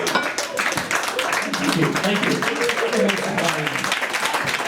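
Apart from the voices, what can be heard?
audience applause at a comedy show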